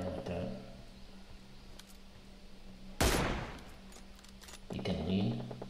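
Gunfire in the mobile shooter PUBG Mobile: a sudden loud shot burst cracks out mid-clip and a second follows shortly after, over a quieter game background with faint voice-like sound.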